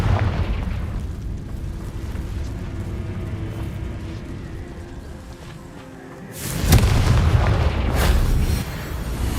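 A Confringo fire spell explodes in the game Hogwarts Legacy, a sudden loud fiery blast with a deep booming roar that erupts after a quieter rumbling stretch and then fades.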